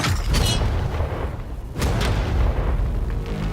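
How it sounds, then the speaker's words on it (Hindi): One of five tanks firing a round at a target of money, a single heavy boom with a long rumbling tail, loud and close, followed by a second lower rumble, no talk. "ये 5 टैंक्स पैसों पर निशाना लगाकर 20 राउंड फायर करने वाले हैं"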